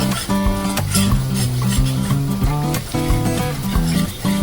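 Two spoonfuls of masala fry and sizzle in hot oil for a spicy Konkani-style dry prawn dish, with constant stirring and scraping against the pan close up.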